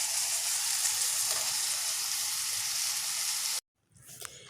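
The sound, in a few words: hilsa fish head frying in a pan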